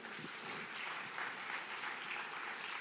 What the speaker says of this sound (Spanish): Dale otro fuerte aplauso al Señor.